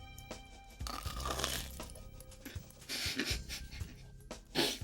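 Crunchy food being chewed right beside a microphone, giving irregular crisp crunches and breathy puffs that come in uneven bursts, quiet overall with a louder crunch near the end.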